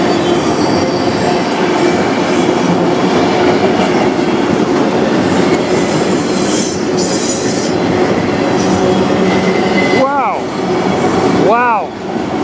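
A CN freight train rolls past close by in Sarnia, Ontario, a loud continuous rumble and clatter of wheels with brief squeals near the end, while a voice speaks over it.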